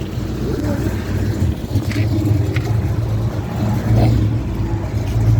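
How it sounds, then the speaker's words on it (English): A car with a cammed engine idling at a car show, its lumpy, uneven low rumble loping steadily nearby amid outdoor crowd noise. "I love me a cammed idle."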